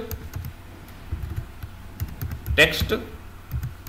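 Fingers type HTML code on a computer keyboard, a quick run of light, irregular key taps with one sharper clack near the end, while someone talks over it.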